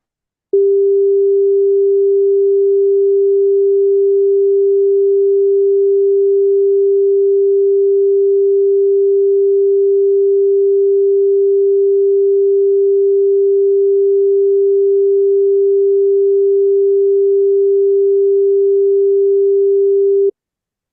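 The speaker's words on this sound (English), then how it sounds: "what is the sound at 396 hertz?" A pure 396 hertz sine tone holds perfectly steady for about twenty seconds, loud and clean, starting and stopping abruptly with nothing else around it.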